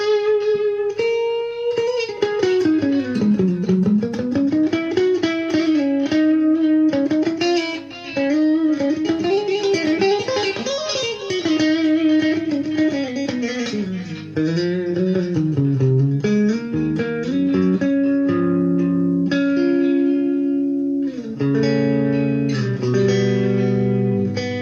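A Washburn V260 electric guitar plays a lead line through a bright, trebly single-coil pickup, with sustained bending notes and slides ringing out continuously and loudly, with no talking.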